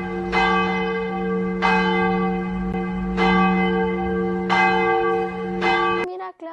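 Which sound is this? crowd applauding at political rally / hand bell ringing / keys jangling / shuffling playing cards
hand bell ringing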